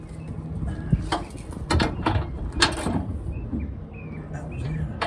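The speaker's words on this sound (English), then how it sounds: "Tighten this one down and we'll torque it." Ratcheting mechanical clicks from tightening a trailer hitch bolt on a 2016 Chevy Colorado, several separate bursts against a quiet background of a home garage.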